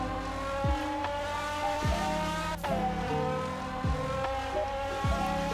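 A Mercedes in a Roblox game runs a max speed test, engine revving up through repeated gear shifts, each climb in pitch dropping sharply and rising again, loud and continuous with a whine and no speech.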